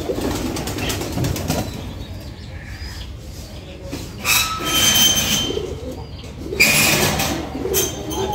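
An Australian dove among kept pigeons beats its wings in a few loud, sudden bursts of flapping between stretches of soft, low cooing, all close at hand with little talk.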